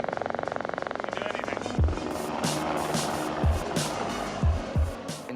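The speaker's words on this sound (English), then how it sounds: "Instead of just having the heli hover" Helicopter flying over Alaska's Tordrillo Mountains, a steady rotor chop throughout with loud deep thumps near the end, heard under a voice talking.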